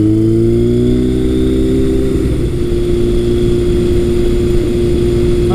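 A 1978 Kawasaki KZ1000 LTD motorcycle engine drones loud and close while riding, as a steady four-cylinder hum that rises and settles into a sustained cruising tone, with carburetion being dialed in.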